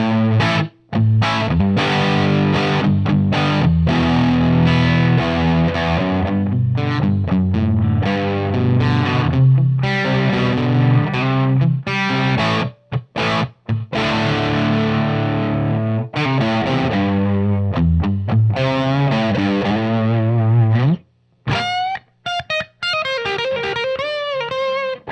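Electric guitar through a Marshall JCM800 split-channel amp with gain at half, treble high and mids slightly raised, playing bright, crunchy distorted chords and riffs, loud and continuous with a few brief pauses and no talking.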